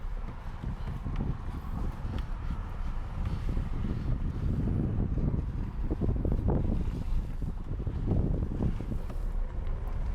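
A car with a clutch position control fault (P0810) is driven, producing a steady low engine rumble mixed with road and wind noise that swells slightly as it pulls along.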